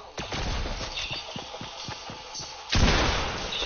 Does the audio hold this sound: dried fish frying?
no